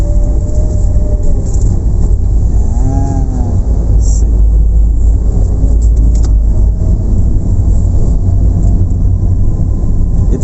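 A manual car pulls out of a narrow alley and turns onto a main road, its engine a steady low drone throughout, with a brief horn-like tone partway through and constant road rumble.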